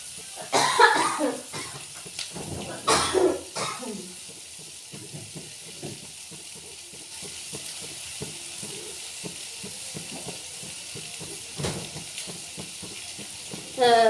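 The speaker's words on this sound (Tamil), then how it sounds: "வெங்காயம் வணங்குது" Onions sautéing in a pan in a home kitchen, a soft continuous sizzle with occasional stirring scrapes and clatter, near and steady, with brief bursts of movement and a cough-like sound early on.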